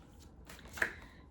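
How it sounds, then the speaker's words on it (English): A deck of tarot cards is shuffled up close, a brief soft riffle of rustling card flicks with one sharper snap near the end, alone and without talk. "I'm just shuffling, so we're gonna see what comes out"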